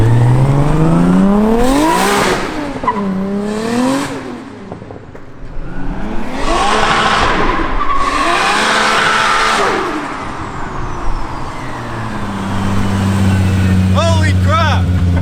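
A 30-year-old Nissan on an R chassis, driven on ice, revs up and down repeatedly with a loud, close engine whine that rises and falls in several sweeping surges.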